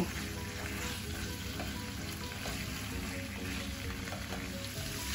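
Leeks sautéing with spices in a pan make a steady, close hiss and sizzle throughout with faint stirring.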